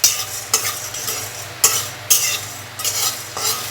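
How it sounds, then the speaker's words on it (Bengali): Spices lightly frying in a pan while prawn bhuna is prepared, with steady soft sizzling and repeated stirring scrapes and spoon clinks at a quick, uneven rhythm, close and moderately loud, no talking. "হালকা করে ভেজে নেব।"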